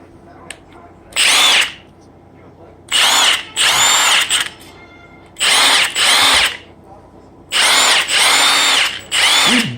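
A Milwaukee M18 FUEL 1/2-inch high torque cordless impact wrench fires in five loud, close bursts of roughly a second each, with short quiet gaps between them.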